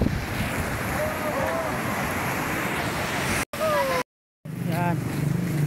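Big waves surge and roar on a rough sea during the first northeast monsoon gust, heard from a boat with heavy wind buffeting the microphone and brief dropouts near the end.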